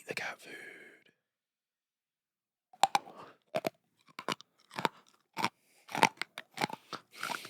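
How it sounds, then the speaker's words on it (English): A person crunches and chews dry cat food, a run of sharp, close crisp bites and crunches after a short quiet pause, with soft breathy sounds at the start. "Eat the cat food."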